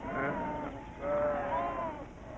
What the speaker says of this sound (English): Now, 135 million sheep graze the sweeping plains